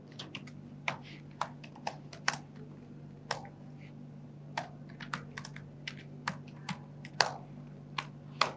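Steady typing on a computer keyboard, with irregular bursts of crisp key clicks and occasional louder keystrokes over a low constant hum, close and fairly quiet.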